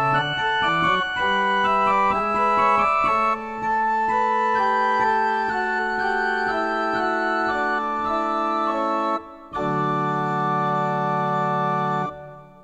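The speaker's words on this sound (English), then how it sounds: "Following the figures will directly lead into the chain of 2-3 suspensions in the upper voices." Baroque-style chain of 2-3 suspensions in the upper voices over a sustained dominant pedal, played as steady ensemble chords that resolve step by step before a final held chord.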